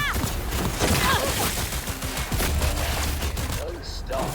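Rapid automatic gunfire rattles through a zombie-themed video game in a dense string of close shots, with scattered other game sounds and a voice underneath.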